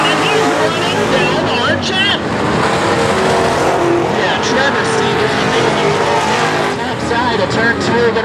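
Race cars roar around a track in a Pro Heat event, engines loud and sustained with changing pitch as they pass, while an announcer commentates excitedly over the noise.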